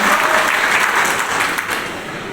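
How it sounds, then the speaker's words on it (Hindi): Loud, close applause from a crowd at a public gathering in Giridih, a thick continuous burst of clapping that holds steady through the short stretch. "बस जोरदार तालियों के साथ इनका अभिनंदन करें आप।"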